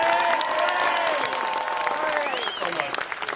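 Outdoor crowd at a Boston Tea Party rally in April 2013 applauding and cheering a speaker's arrival, a thick wash of clapping with whistles and shouts, fading slightly toward the end.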